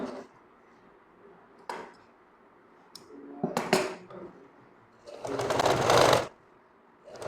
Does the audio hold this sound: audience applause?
no